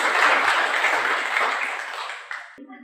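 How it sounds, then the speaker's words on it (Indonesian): Church congregation applauding, a dense wash of clapping that fades out over a few seconds, ending in a sharp tap and a brief ringing tone. "Mari kita muliakan Tuhan dengan tepuk tangan."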